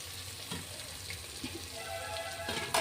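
Water splashing into a pot of egg biryani gravy with boiled eggs, over a steady sizzling hiss, with a brighter pour near the end.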